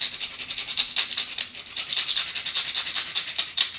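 Fresh cinnamon stick rasped across a Microplane grater over a drink, a quiet, close, rhythmic scratching with quick repeated strokes throughout and no talk.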